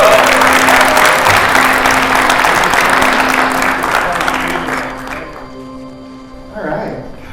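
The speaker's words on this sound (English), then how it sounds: "Let's join me in giving a big 1 million cups Fargo round of applause." A loud wash of audience applause at a community entrepreneur event rolls on for several seconds, then tapers off as a few last claps and a voice surface near the end.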